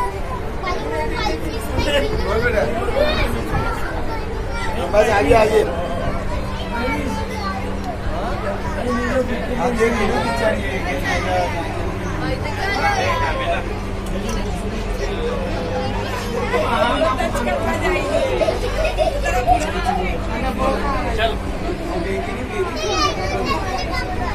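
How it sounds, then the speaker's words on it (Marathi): Crowd chatter inside a fish tunnel aquarium in Pune: a steady hubbub of many voices, with children playing and calling out, fills an enclosed space from start to finish. "गर्दी पण व्हायला लागली."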